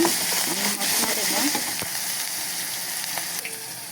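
Onions sizzling in a pan with salt while being stirred, a loud close continuous hiss with occasional scraping taps of the spoon, steady throughout the short stretch.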